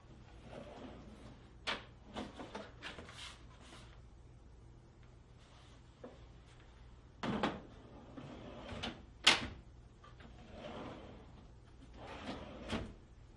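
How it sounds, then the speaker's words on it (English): A Blum Tandem drawer is handled and pulled out of a cabinet, giving a run of scattered soft clicks, knocks and sliding rattles, some sharper than others, all fairly faint with no talking. "gently squeeze the orange handles on the locking devices and pull the drawer out of the cabinet"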